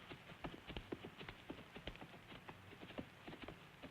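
Horse hooves clip-clop in a steady walking rhythm, quiet and at moderate distance, continuing evenly throughout with no speech over them.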